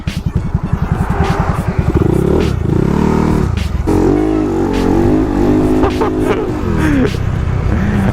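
A motorcycle revs hard on an open road while doing a wheelie practice session, its engine loud and close with rising and falling throttle, plus some clatter and a brief voice underneath.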